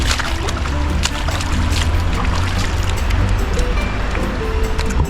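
Swollen river water rushes steadily and close by, a dense continuous wash with small splashes and trickles throughout.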